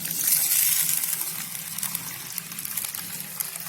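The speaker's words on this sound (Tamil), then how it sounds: "இதை 2-3 டைம் தண்ணி ஊற்றி அலசி எடுத்துகிட்டு வந்துக்கலாம்" Water is poured over raw rice with toor dal and chana dal in a vessel to rinse them for adai dosa, giving a short close splash that settles into a soft trickle.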